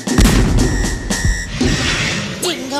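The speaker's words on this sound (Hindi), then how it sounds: "फायर तो कर दिया, लेकिन सिर्फ 6 गोलियां थी" A cartoon gun fires several loud, sharp shots in close succession. Booming cracks and a whooshing zip mix with other cartoon sound effects.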